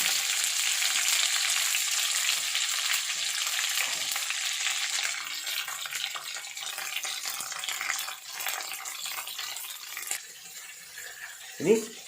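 Green gram dropped into a pan of hot oil after mustard seeds have popped sizzles steadily and fairly loudly, with some stirring, then the frying fades softer toward the end, with a brief clunk near the close.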